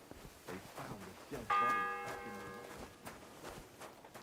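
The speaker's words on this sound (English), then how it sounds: "The fourth bell." A single church bell strikes once inside the Kingdom Come: Deliverance 2 game world, a bright ringing tone that hangs and fades over about a second amid quiet ambient town noise.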